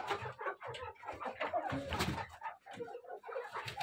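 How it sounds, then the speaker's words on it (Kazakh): Young chickens clucking and chattering close by in a heated coop under an infrared lamp, a busy overlapping chorus of many birds. "Мынаның бәрі бізде молодняк, жас тауықтар"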